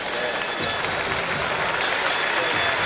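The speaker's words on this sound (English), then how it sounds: "And Caron Butler struggles to leave the court and gets a round of applause." A basketball arena crowd applauds as injured player Caron Butler struggles off the court during a Miami Heat at Washington Wizards game, a steady, distant roar of clapping and crowd noise throughout.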